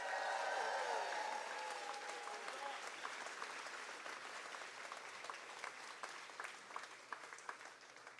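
A crowd at the Fancy Farm Picnic in Graves County, Kentucky applauding the musicians, dense clapping that starts strong and slowly thins out over several seconds, with a few faint voices mixed in.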